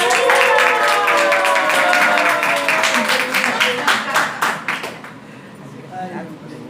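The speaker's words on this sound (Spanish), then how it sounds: "Un aplauso." An audience at an evening church gathering applauds with sharp, dense clapping, loud at first and tapering off to scattered claps, while a voice carries over the top.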